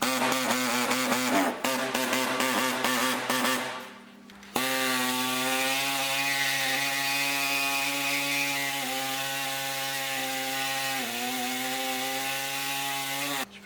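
A sawzall reciprocating saw cuts through car parts on a Skoda Octavia MK1 vRS, a loud close buzzing motor drone with a harmonic whine that briefly stutters and then runs steadily, with no talking.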